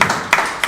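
Audience applauding at a university schools of science event, three brief clap bursts in quick succession, close and fairly loud.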